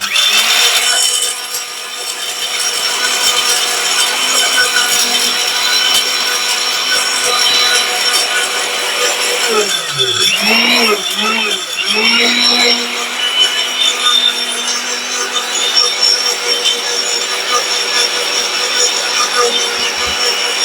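A mixer grinder grinding spices gives a loud, steady motor whir with a rough grinding rasp that runs throughout. Voices talk under it, and the pitch briefly sags and wobbles partway through.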